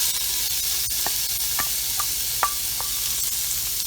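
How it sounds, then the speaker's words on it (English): Leftover marinade onions hitting a hot pan of browned pork to deglaze it, giving a steady close sizzle and hiss with a few soft clicks of stirring. "So I'm going to take the leftover onions that was in the marinade and add it to the pan to deglaze it."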